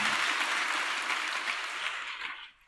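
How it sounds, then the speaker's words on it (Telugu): Audience applause at a Telugu sermon, a dense steady wash of many hands clapping that holds evenly and then drops away near the end. "ఇప్పుడు చప్పట్లు కొడితే చివరికి వెళ్ళిన తర్వాత ఏం కొట్టుకోవాలో తెలియదు"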